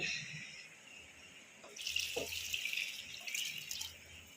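Water pours from a faucet into a biryani pot, a soft continuous splashing stream with a few brief drips, fairly quiet and without talk.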